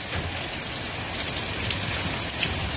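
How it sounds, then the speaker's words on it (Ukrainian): Heavy rain turning to hail pours down outdoors in a thunderstorm, a steady, dense, loud hiss of drops and pelting hitting surfaces, continuous with no talk. "Дощ перетворюється в град."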